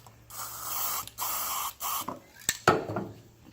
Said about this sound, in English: I'll spray it into the lid